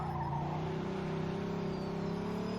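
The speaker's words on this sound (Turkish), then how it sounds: "Bu araba güzel de çok bağırıyor ya." A loud car engine drones in a parking lot in Mafia 2 Definitive Edition. The tone is a steady, harmonic roar that stays strong and close with little change across the short stretch.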